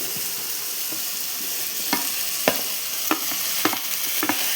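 Onions sizzle in a pan of tomatoes for an empty salna, a steady broadband frying hiss with several sharp scraping clicks of a spoon against the pan, close and without voices.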